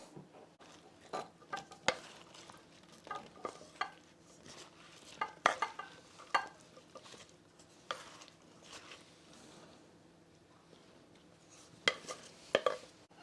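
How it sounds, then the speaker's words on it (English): Skillet apples tumble from a pan into a bowl, with scattered soft clatters, a utensil scraping and stirring, and brief wet thuds at irregular intervals, fairly close and quiet, without talk. "I'm going to go ahead and dump some in this bowl."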